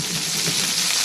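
Filet mignon steak searing in a hot pan gives a loud, continuous sizzle with crackling spatter, close up and with no voices.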